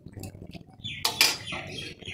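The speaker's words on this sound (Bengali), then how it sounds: "একটু আমি ঢাকা দিয়ে দিচ্ছি।" A lid goes onto a cooking pot with a short metallic clatter near the middle of the clip. A voice speaks softly around it.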